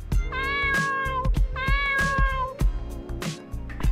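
A cat in a video game meows twice in quick succession, clear and close, each call rising and falling in pitch, followed by softer background sounds.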